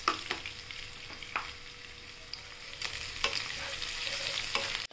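Green chillies and cumin frying in a pan for sabudana khichdi, a steady soft sizzle with a few sharp stirring clacks against the pan, close and fairly quiet.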